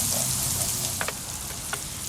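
Pancetta and onions sizzle in a skillet for a one-pan bucatini all'amatriciana, a steady close frying hiss with a few light clinks of stirring.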